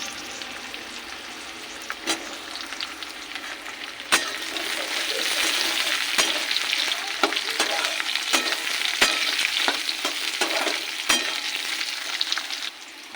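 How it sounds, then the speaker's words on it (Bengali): Eggplant pieces go into a hot pan of frying vegetables for a flat-bean chorchori, giving a steady close sizzle with sharp stirring clatters and scrapes every couple of seconds, no talk. "এবার দেবো বেগুন।"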